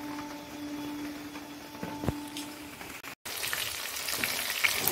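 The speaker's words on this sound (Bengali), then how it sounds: "আলুটা দেখো ভাজা হয়ে গেছে" Potatoes fry in a pan with a soft, steady sizzle, a brief gap near the middle and a slightly louder crackle afterward, no speech.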